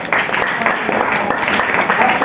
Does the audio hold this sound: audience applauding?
yes